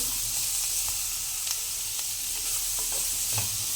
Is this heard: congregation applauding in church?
no